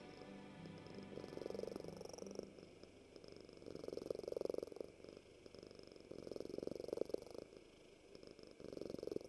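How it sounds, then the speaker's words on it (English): A contented domestic cat purrs softly and close, a low rumbling purr swelling and fading in regular breath cycles, with no talking. "That is the sound of a carefree, happy cat."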